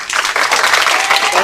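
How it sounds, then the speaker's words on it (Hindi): Classroom applause for students' weekly test results, starting after a brief pause and then continuing as brisk, dense clapping from a group of pupils. "ठीक है, तालियां बजाओ भाई"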